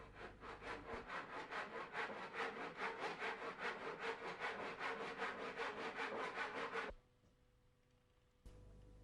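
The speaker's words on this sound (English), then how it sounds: "mark the position of the miter cut, noting the direction. Cut to size, as you did before." Hand saw cutting wood to size for a miter joint, a close run of quick, even rasping strokes that stops abruptly, followed by near silence and a faint knock.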